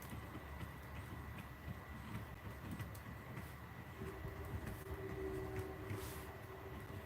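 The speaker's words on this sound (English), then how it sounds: "I hear a train coming." A train passes at a distance as a low, steady rumble that gradually swells, with a faint sustained horn-like tone entering in the second half and no one speaking.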